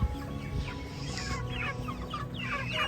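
A flock of chickens clucking and chattering close by during early-morning farm chores, overlapping calls repeating steadily over a low background rumble.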